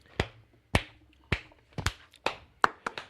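A single person claps sharply during a podcast game session, with about eight separate claps in an uneven rhythm, loud and close, alone without talk.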